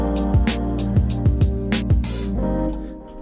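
Beat playback for a hip-hop style production: punchy kick hits every half second under a sustained bass and synth bed, a swelling noise sweep near the middle, then elements dropping out toward a sparser tail, no voices.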